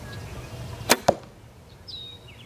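An arrow released from a bow during instinctive archery practice without sights: a sharp snap of the string followed quickly by a second thump, heard close over a low outdoor background hum.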